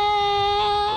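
A bassoon reed played alone crows at too high a pitch from an overly firm embouchure, giving one steady, bright, squawky tone for about a second, close and fairly loud.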